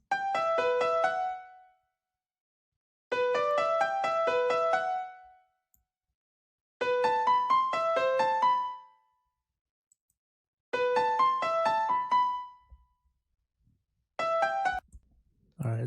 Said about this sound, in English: so the melody sounds like this